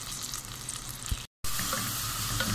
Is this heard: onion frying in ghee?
yes